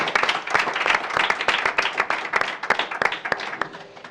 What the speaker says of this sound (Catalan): demano un fort aplaudiment pel Jordi